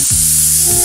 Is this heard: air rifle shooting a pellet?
no